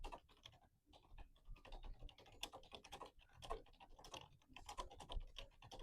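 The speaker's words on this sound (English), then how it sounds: "I'm not used to typing on it." Fingers tap rapidly on a very small computer keyboard, irregular clusters of close, crisp key clicks with brief pauses, alone without talk.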